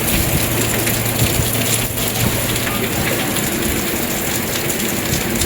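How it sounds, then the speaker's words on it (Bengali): Fairly heavy rain pouring down steadily on a hot day, a dense, loud, even hiss with no voices over it. "বৃষ্টি পড়ছে মোটামুটি জোরে এসছে বৃষ্টিটা"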